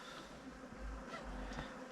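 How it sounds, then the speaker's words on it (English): Bees buzz near a boat on the water, a faint, close drone that swells and fades as they hover about. "now I don't like the bees"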